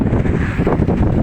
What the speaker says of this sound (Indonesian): Anginnya besar. Lagi nyoting angin. Anginnya gede banget.